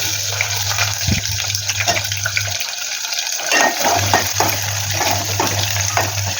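Onions fry and sizzle while a spoon stirs them into a curry with mint in a home kitchen, a constant hiss with a low hum and brief scraping stirs, no one speaking.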